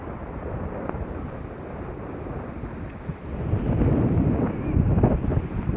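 Strong wind blows across the sea, buffeting the microphone in low rumbling gusts over the wash of waves, with surges growing louder toward the end and no voices.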